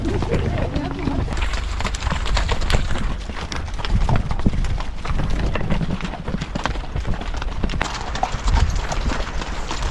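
Horses clip-clop along on a trip in Kazakhstan, their hooves beating a busy, uneven rhythm close by. Several people talk throughout over the hoofbeats.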